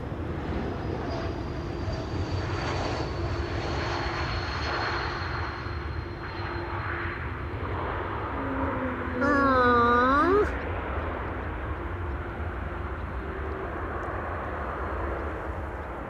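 An Embraer E2 airliner at Amsterdam Schiphol Airport produces a steady, moderately distant engine roar and rumble throughout, with a brief rising whine partway through that stands out over the drone of the airport.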